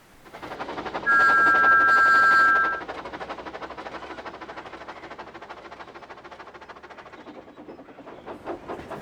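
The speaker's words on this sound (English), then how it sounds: "Thomas pushed his train backwards until he reached Edward Station" A toy-style steam engine shunts its train backwards along the railway, steady clickety-clack of wheels and hissing steam throughout, with a loud whistle blast near the start; no talk.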